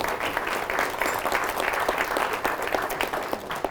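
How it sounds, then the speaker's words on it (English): Crowd at a political campaign event for a governor candidate bursting into sustained, fairly loud applause, even and continuous for several seconds. "And yeah, you can clap for that."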